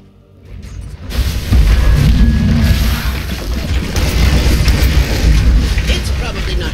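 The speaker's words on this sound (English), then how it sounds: "Dire's middle tower has fallen." A defensive tower in Dota 2 is destroyed with a loud booming crash that starts about a second in, followed by sustained rumbling debris and battle noise, with a voice heard over it.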